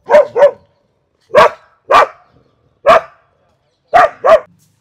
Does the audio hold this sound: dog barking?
yes